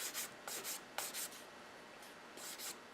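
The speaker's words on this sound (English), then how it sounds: "Keeping them together allows the sander to really not round edges as easily as it would otherwise." A sander worked by hand on small plastic parts from a Tamiya M41 Walker Bulldog model kit, making quick, faint, scratchy strokes in short bursts with gaps between them, close and quiet.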